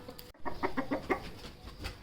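An aseel hen clucks in a series of about five short, close clucks after a brief pause, with faint farmyard background around it.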